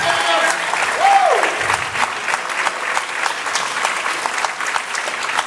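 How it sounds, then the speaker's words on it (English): A college chapel audience applauds its choir with loud, sustained clapping from many hands that carries on throughout, a brief voice heard early on over it. "One more round of applause for the choir and for Highland"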